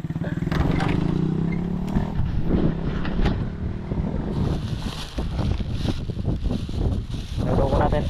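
A motorcycle drawing near outdoors, its low engine drone rising and shifting under heavy wind buffeting on the microphone, with brief voices in the background.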